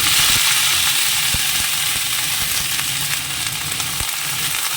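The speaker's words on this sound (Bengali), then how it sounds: "একদম লাল করেই ভেজে নেব" Dried red chillies and panch phoron fry in hot oil, giving a loud, continuous crackling sizzle with sharp spits and pops scattered throughout. No voices are heard.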